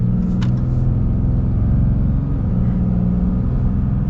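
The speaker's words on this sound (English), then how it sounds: "Okay, we get our full-blown acceleration here." A 2022 Ram heavy-duty Limited Night Edition truck with a Cummins engine under full acceleration, heard as a loud, steady low rumble and drone from inside the cab that holds throughout.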